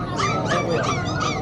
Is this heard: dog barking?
yes